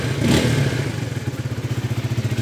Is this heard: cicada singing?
no